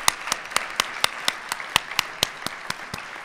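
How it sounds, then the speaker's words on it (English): Audience at a TED-style talks event giving a round of applause for the speakers, a sparse, regular series of sharp claps, nearly even in rhythm, heard alone and close. "Let's give one more round of applause for all our great speakers."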